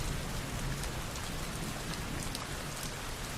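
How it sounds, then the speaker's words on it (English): Steady rain falls gently, a dense even hiss of drops on surfaces that carries on without pause, soft and constant with nothing else heard. "Listen to the sound of the rain gently falling in the background"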